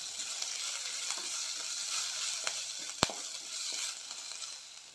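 Cumin seeds, chopped green chilli and ginger sizzling in oil, a soft, steady hiss with scattered crackles and a sharp utensil clack near the middle, fairly quiet and without speech.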